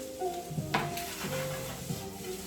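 Green onions get stirred and tossed in a hot pan with a bacon fried chicken quesadilla filling, making a light sizzle under scraping and the scattered knock of a utensil on the pan.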